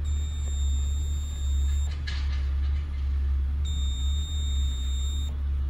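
Craftsman LT500 riding mower sounding its electronic warning beep as the starter switch is turned with the brake pressed: two steady high tones, each lasting nearly two seconds with a gap between, over a constant low engine-like hum.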